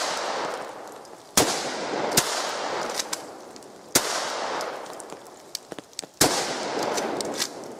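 Gunshots ring out at an outdoor shooting event in Washington State: four loud, sharp reports spaced a second or more apart, each trailing into a long echoing decay, with a few fainter pops between them.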